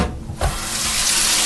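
Water poured into a hot pan while making saltine cracker almond toffee, a sudden loud hiss and sizzle bursting in after a quiet moment and continuing steadily close by.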